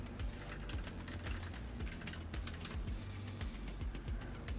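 Computer keyboard typing, quick irregular key clicks in a steady run close to the microphone, with no talk over it.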